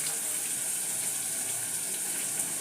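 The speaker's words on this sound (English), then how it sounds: "When you strain your spaghetti, make sure you strain completely" Water from cooked spaghetti pours out through a strainer in a kitchen, a steady, even gushing and splashing stream that stays close and constant throughout with no talking.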